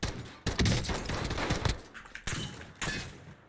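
Rapid automatic bursts of MP7 submachine gun fire in a Warzone match, several loud close volleys separated by brief pauses, crackling with impacts, no talking.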